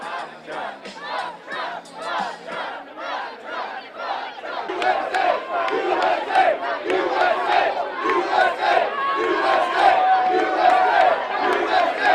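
A large crowd chants and shouts in rhythmic bursts that repeat steadily, growing denser and louder halfway through into a sustained roar of voices.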